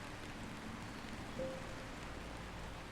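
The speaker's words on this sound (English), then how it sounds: "No, I love the rain." Steady rain falls in the game Until Then, a soft constant hiss of drops on surfaces with no talking over it, quiet and even throughout apart from one brief faint tone midway.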